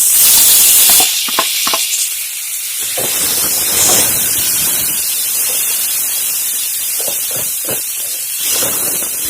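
Loud, constant hiss of tomato sizzling as it sautés in a hot pan for fish masala, a broad steamy frying noise with scattered stirring knocks and no talking.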